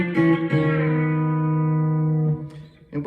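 An electric guitar fitted with a B-bender plays a lick, notes sliding and bending upward into a long sustained tone with a touch of effects, then a few quick picked notes at the end.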